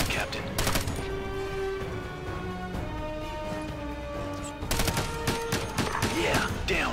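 Rapid volleys of gunfire in the tactical shooter game Ghost Recon Advanced Warfighter 2, with bursts of sharp shots at the start and end over steady background game sound, near and loud.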